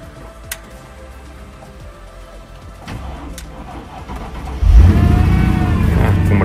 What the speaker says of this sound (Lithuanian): Tai automobilis užsikūrė.